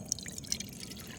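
Water from a canteen pours into a measuring cup with a soft, steady trickle and a few faint drips, close and quiet, lasting about a second.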